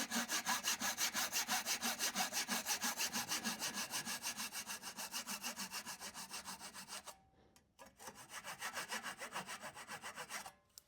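A dovetail saw cuts by hand through wood at a workbench, making steady rhythmic back-and-forth rasping strokes, close and loud, with a brief pause near the end before the sawing resumes.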